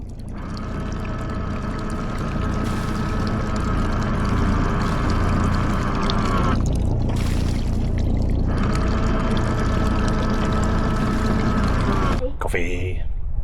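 Coffee pours aboard a sailboat, a steady close stream of liquid that pauses briefly midway and resumes, over a continuous hum.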